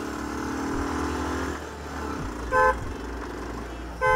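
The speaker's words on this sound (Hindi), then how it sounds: "ये हो गई अपनी बाइक स्टार्ट" A motorbike engine starts up and settles into a low, steady idle, with a couple of short, sharp horn toots breaking in near the end; no talk over it.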